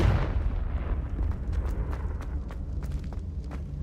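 The Confringo blasting spell going off in Hogwarts Legacy: a loud, close burst that opens the clip, then a rumbling tail and scattered sharp crackles.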